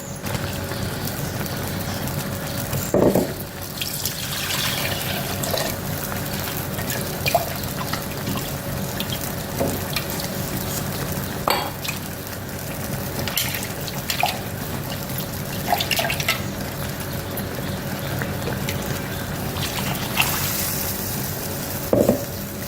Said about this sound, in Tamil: மிக்சியை கழுவி தண்ணி ஊற்றிக்கலாம்